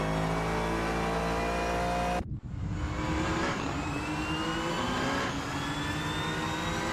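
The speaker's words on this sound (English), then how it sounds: "John Mead barreling down the main straight, trying to find a way past Riba." GT3 race car engines in a racing video game at Sepang, a loud sustained roar that cuts abruptly, then rises again as cars howl down the main straight with rising engine pitch, no talking.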